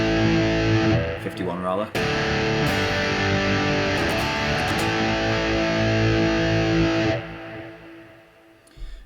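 Electric guitar through a Sonicake Ampcube practice amp with the gain turned up high gives a thick, saturated, distorted tone that rings steadily for several seconds, with a brief spoken remark near the start.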